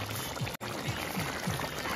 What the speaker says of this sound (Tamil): இதில் தண்ணி ஊற்றுவேன்